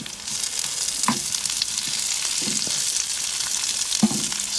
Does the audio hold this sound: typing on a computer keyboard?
no